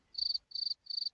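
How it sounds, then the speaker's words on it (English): Crickets chirping in three short, evenly spaced bursts of high, rapid trills, clear against otherwise near silence. "Crickets."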